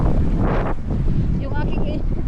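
Wind gusting outdoors, a loud buffeting rumble against the microphone throughout, with a voice speaking faintly beneath it.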